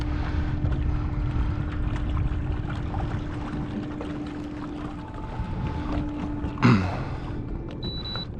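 36-volt electric trolling motor on a 22-foot bay boat hums steadily with a faint whine, accompanied by wind and water noise and a brief knock near the end.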